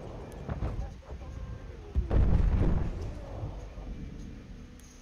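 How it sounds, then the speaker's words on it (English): Artillery fire booming in the Battlefield 1 Conquest match at Fao Fortress, a heavy low blast rolling out around the two-second mark over steady battle noise, with people talking throughout. "the artillery is shooting us"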